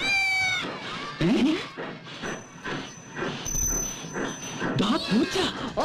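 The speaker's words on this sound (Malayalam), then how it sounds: "പൂച്ച." High, wavering cat meows open a comedy film scene and return near the end, mixed with talk and background music.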